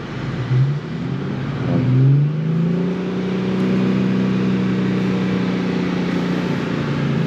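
An Infiniti Q50 with a 3.7-liter VQ37VHR V6 idling loudly up close after a thermostat replacement, rising in pitch as it's revved a couple of times, then settling into a steady hum.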